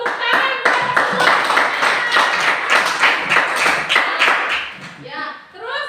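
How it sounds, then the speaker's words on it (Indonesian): A classroom group claps hands in a fast, steady rhythm for several seconds, then voices speak briefly as the clapping stops. "Tepuk tangan buat semua."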